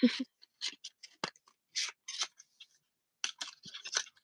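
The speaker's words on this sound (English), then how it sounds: "Okay, scissors." Scissors snip repeatedly at close range in short, irregular bursts of crisp cuts, with quiet pauses between them.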